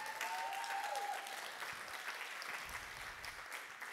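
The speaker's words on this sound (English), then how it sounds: "Clap your hands like you're catching this." Audience at a church sermon on prayer claps steadily throughout, a dense even patter filling the room, with a brief high whistle-like tone near the start and slight thinning toward the end.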